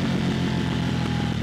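Harley-Davidson Pan America 2022 motorcycle engine running steadily up close, a loud continuous low rumble with a busy harmonic drone, no voices over it.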